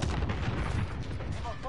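R9-0 shotgun blasts in Call of Duty, dense booming gunfire crowding a short burst, loud and close with heavy low-end rumble and a faint voice near the end.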